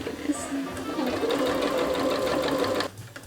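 A sewing machine stitches a milkmaid dress in a rapid, steady mechanical whir for about three seconds before stopping, close by, with faint voices in the background.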